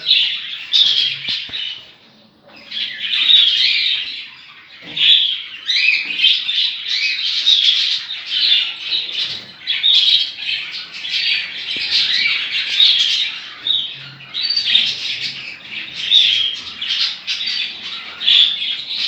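Pet budgies in a cage chirp and squawk almost nonstop, a dense, close flock of bright twittering calls with short pauses and occasional wing flutters.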